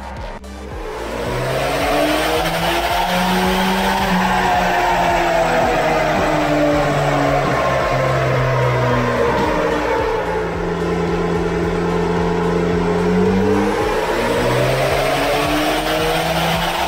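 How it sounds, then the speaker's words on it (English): A turbocharged 3RZ car engine on a road pull at about 10 psi boost revs hard and climbs through the gears, dropping and rising again in a sustained loud pull with a strained, whining tone. "We're doing a few road pulls to see how we go."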